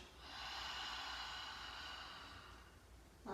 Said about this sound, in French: Prends une grande inspiration par le nez et expire par la bouche.